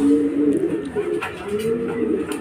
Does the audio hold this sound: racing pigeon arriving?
yes